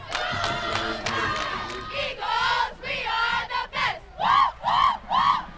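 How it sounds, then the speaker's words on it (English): Cheerleaders and a crowd at a high school football rivalry game chant in unison, a run of rhythmic shouted calls in bursts of near-even spacing, loud and close with crowd noise beneath. "The crowd and cheerleaders were pumped."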